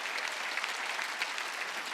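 Congregation clapping together during a Sunday charismatic worship service at a Korean church, a dense steady wash of many hands filling the room without pause.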